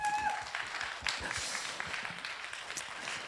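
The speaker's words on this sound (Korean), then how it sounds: "박수 한번 쳐주세요." Churchgoers at a Korean Sunday service, a children's dedication worship, give a round of applause, a soft, spread-out patter of clapping that carries on evenly at modest volume in a reverberant hall.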